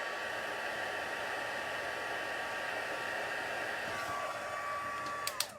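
Heat gun blowing steadily to melt embossing powder on a handmade birthday card, a continuous close whooshing roar with a faint whine, ending with a couple of small clicks.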